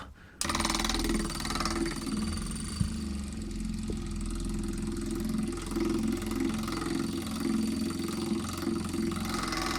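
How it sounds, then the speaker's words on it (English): A boat's fuel polishing pump switches on and settles into a steady mechanical drone with a low, even hum and slight throb, close by and running continuously with no voices. "So we turn on our polish return valve, reach back in here and turn on our pump."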